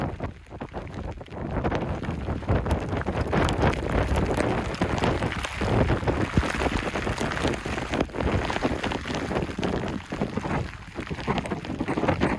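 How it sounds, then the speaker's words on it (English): Strong wind and rain with a little hail lash a stormy outdoor landscape, a steady, loud, close roar of gusts and pattering drops buffeting the microphone throughout. "The wind's now picking up, and we've got a bit of hail as well."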